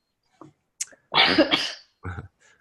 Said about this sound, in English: I feel you about the coughing.